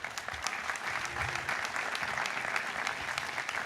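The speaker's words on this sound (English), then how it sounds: "would you give your parents a nice round of applause?" Sustained applause from a commencement crowd honouring the graduates' parents, a dense, steady wash of many hands clapping at a distance that holds without a break.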